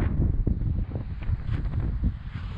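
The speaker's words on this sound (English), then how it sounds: "And this wind's certainly not helping matters." Strong wind buffets the microphone in a steady low roar in an open field in the UK, with gusts rising and falling throughout and no voices.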